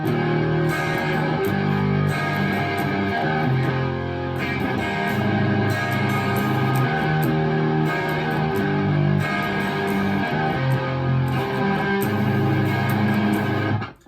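Distorted electric guitar plays a repeating riff with a steady, full sound, continuous and loud throughout, no voices.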